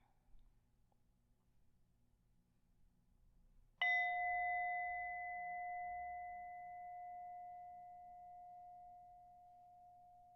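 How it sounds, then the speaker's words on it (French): A single gong stroke rings out after quiet, its bright metallic tone sustaining and slowly fading over several seconds. "Ferme les yeux et écoute le son de son joli gong."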